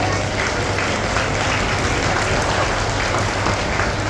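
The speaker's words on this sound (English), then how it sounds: "I think that calls for one final round of applause for all of you" Sustained applause from a large audience, a dense even clapping that stays loud and unbroken for several seconds.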